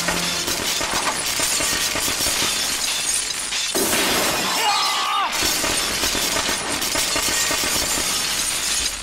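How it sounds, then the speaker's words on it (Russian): A glass ceiling shatters as a stuntman slides down garlands and falls through it in a film stunt. A long, dense crash of breaking glass is heard, followed by a second burst of shattering over a loud, continuous bed of noise. "скользит вниз по гирляндам и падает сквозь стеклянный потолок"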